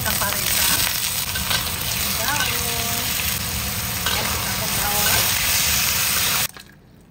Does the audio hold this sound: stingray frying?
yes